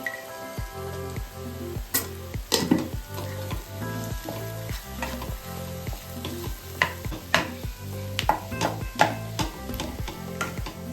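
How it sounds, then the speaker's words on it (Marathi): Potato pieces hit a pan of onion-garlic masala frying in hot oil, setting off a lively close sizzle broken by repeated clinks and scrapes of a spoon stirring. "मसाल्याला छान तेल सुटलं आहे आता मी यात बटाटे टाकते"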